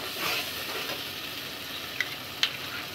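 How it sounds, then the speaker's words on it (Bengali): Hilsa fish masala stir-fried in a pan over medium heat, giving a steady soft sizzle with a couple of sharp spatula scrapes near the end; no talking. "মিডিয়াম আঁচে রেখে ভালো করে কষাতে হবে"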